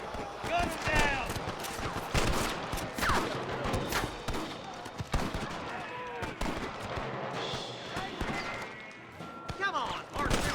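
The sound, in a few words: gunfire in shootout, video game Red Dead Redemption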